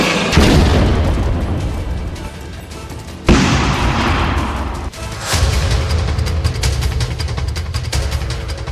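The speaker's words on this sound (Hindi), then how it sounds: "इसमें सबसे अहम है ये 155 mm होवित्जर आर्टिलरी गन" 155 mm howitzer artillery guns firing, heavy booming blasts with sharp onsets near 0.4, 3.3 and 5.3 seconds, each followed by a long rumbling roll and crackle that keeps the sound dense and loud throughout.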